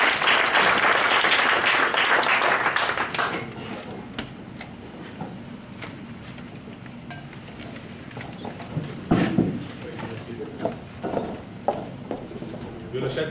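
Audience applause in an Italian television studio, a loud dense burst of clapping for about three seconds that then drops away into quieter room noise and scattered murmur.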